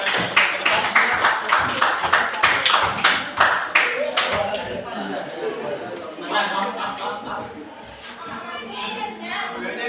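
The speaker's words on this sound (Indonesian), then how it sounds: "kita kasih aplaus dulu untuk temannya tadi" A classroom group claps in a burst of brisk, dense applause for several seconds, then it fades into murmuring chatter and voices from the pupils.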